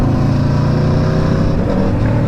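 Aprilia RSV4 sport motorcycle with a 520 chain and sprocket conversion, its engine droning steadily and loudly under light throttle in high gear while riding through town, with wind rush over the top.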